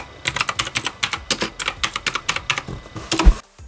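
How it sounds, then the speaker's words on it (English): Keys on a classy compact computer keyboard clack in a quick, uneven burst of crisp taps, close and loud, ending with a heavier thunk of a larger key. "the feel of the keys and the sound that the keys make are super satisfying"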